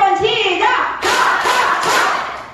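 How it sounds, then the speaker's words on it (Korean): An audience of elderly people at a Seoul senior welfare center's laughter therapy class claps in unison, loud, sharp bursts in a quick group rhythm close by, with no talk over it. "자, 박수 세 번 시작!"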